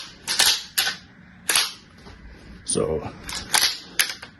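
The action of a Canuck Sentry 12-gauge tactical shotgun is racked back and forth, giving sharp metallic clacks and sliding scrapes in irregular bursts, close up, with a brief spoken word in between.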